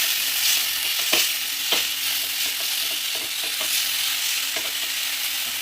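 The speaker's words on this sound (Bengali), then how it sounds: "চিংড়ি মাছগুলো দিয়ে একটু হালকা হালকা ভাজা করে নেবো একটু নাড়াচাড়া করবো" Shrimp with a pinch of salt fry lightly in a pan, a steady hiss of sizzling oil broken by repeated sharp scrapes and taps of the spatula as they are stirred.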